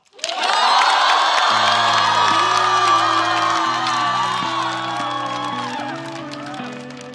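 A studio audience at a Chinese rap variety show cheers, whoops and applauds loudly to welcome a rapper onto the stage, with steady crowd noise under a booming backing beat that enters shortly after.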